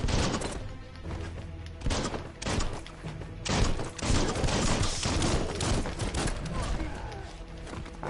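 Dense, continuous gunfire from the action game Biomutant rattles through the whole stretch in loud overlapping volleys and thuds, with a voice mixed in underneath.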